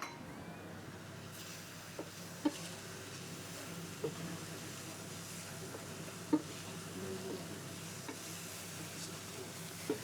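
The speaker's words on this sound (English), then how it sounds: "So the onions can really get a good roast." Onions roasting in a pan with beef produce a soft, continuous sizzle, with occasional light clinks of a utensil against the pan.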